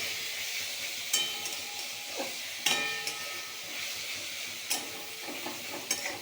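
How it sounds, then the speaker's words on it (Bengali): Leafy greens stir-fried over a high flame with a spatula: steady close sizzling and hiss, broken by sharp scrapes and taps of the spatula against the pan every second or so. "এবার আমি খুন্তির সাহায্যে সেটিকে ভালোভাবে মিক্স করতে থাকবো।"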